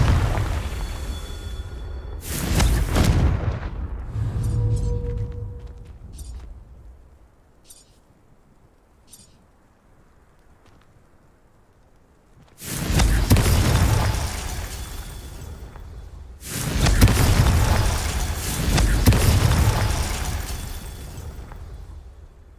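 Confringo spell explosions in a Harry Potter video game: a loud blast at the start, then quieter magical effects, then two more heavy booming explosions close together near the end.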